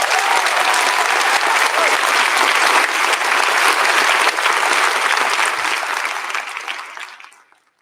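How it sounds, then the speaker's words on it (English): Loud applause from a large conference audience, dense sustained clapping filling the room for several seconds before tapering and dying away. "Can we please give her another round of applause?"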